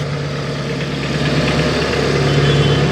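An LS tractor's engine runs at the company's North Carolina factory headquarters as the machine drives off: a steady, close diesel rumble with a constant low hum and no speech.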